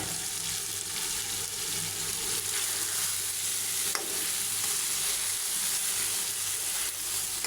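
Tilapia fries in a pan while being stirred, a constant close sizzle and crackle with a faint scrape of the spoon partway through, no voices.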